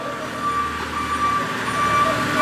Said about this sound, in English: We'll just show you a little operational backup alarm.